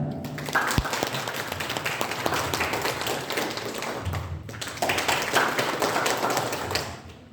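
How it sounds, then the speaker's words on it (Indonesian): An audience at a teacher-training workshop claps together in a dense, rapid patter of hand claps. It runs in two steady bursts separated by a brief pause. "Kalau begini nih kita bersama-sama bertepuk tangan"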